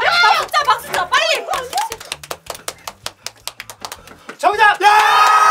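A group of people clap hands in quick, uneven bursts during a party game, with sharp claps scattered through the middle and shouting, excited voices at the start and end.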